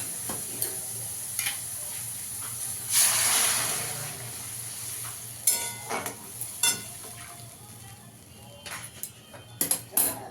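Hot water poured onto well-fried spice paste for a mustard-oil bola fish curry bursts into a loud hissing sizzle around the third second, then settles into quieter bubbling broken by sharp spoon-and-pan clatters.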